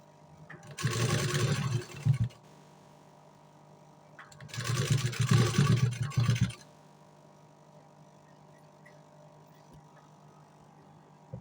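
Sewing machine stitching a puffed blouse sleeve, running in two bursts of about two seconds each, with a quiet pause between them and near-silence afterward.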